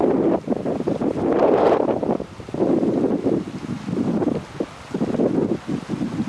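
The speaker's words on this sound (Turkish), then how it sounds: "Hafif rüzgar var ama önemli değil yani" Wind buffets the microphone in gusts in a village in Pülümür, Dersim, a blustery rumble that rises and falls, with no voices heard.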